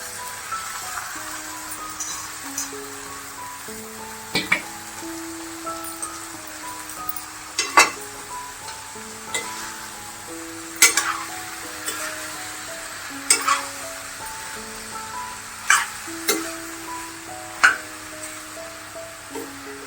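Potatoes and lablab beans sauté in a pan over medium gas with a soft steady sizzle. A spoon clinks and scrapes against the pan at intervals, over a gentle background melody.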